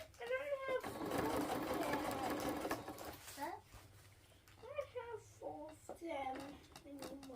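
A sewing machine stitches down an invisible zipper in a close, loud, steady burst of rapid stitching lasting about two seconds, followed by someone speaking alone as the machine falls quiet.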